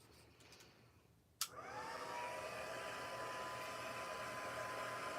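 A hair dryer is switched on with a sharp click to dry wet paint on a handmade 6x6 summer solstice card. It settles into a steady, close whooshing hum with no talking.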